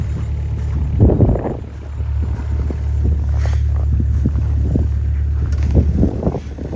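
A Wolf Mini 780H wheel loader with a 25 horsepower Kubota engine runs close by, a steady low diesel drone with uneven knocks and clunks from the machine.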